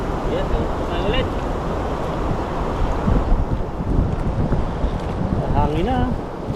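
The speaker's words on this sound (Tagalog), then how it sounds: "Hangin na." Strong wind roars over the open sea around a small fishing boat with nets out as rain sets in, with waves washing steadily and people talking under the constant gusting.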